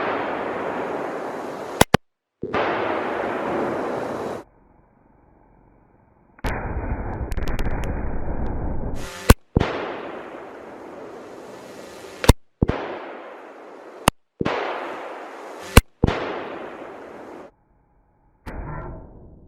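Adams Arms small-frame .308 AR10 patrol rifle fired at zombie targets outdoors: about eight sharp, loud single shots spaced irregularly, each followed by a fading echo tail, with no talking.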